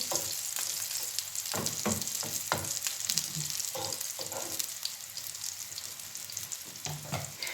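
Fish cutlets fry in oil in a pan with a continuous close sizzle, and light scrapes and taps of a utensil sound now and then over the crackle.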